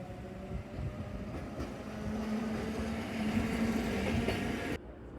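A Kyoto Randen tram runs along a street-side line, a low steady rumble building gradually with a faint tonal whine, then cut off abruptly near the end.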